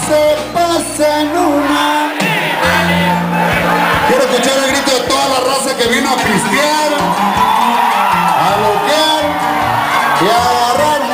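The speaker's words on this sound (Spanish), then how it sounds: "Quiero escuchar el grito de toda la raza que vino a pintar." A crowd at a rodeo event whoops, yells and cheers in bursts over loud band music, with a dense, continuous roar of voices.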